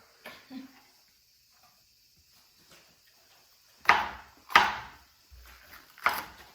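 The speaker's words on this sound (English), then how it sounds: "So I'm pretty much done chopping all of my vegetables" Knife chopping jalapenos, tomatoes and onion on a cutting board in a home kitchen, heard as a few sharp, separate thwacks near the end after a faint early knock, with quiet gaps between.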